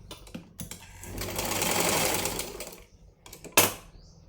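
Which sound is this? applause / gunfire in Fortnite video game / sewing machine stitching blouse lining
sewing machine stitching blouse lining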